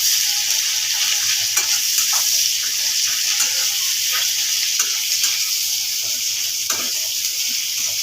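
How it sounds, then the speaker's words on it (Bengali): Onions sizzling in hot oil in a pan, a steady broadband hiss with occasional stirring scrapes, continuous and fairly close throughout. "তেলের মধ্যে পেঁয়াজ দিচ্ছি।"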